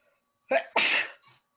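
One sneeze, a short inhaled catch followed by a loud burst, close and alone in an otherwise quiet room.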